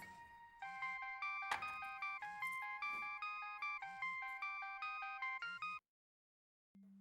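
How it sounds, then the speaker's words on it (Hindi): A mobile phone ringtone plays a bright, repeating electronic melody at close range, then cuts off abruptly, followed by a short, low tone after a brief silence. "अनु बेटा तुम्हारा फोन बज रहा है"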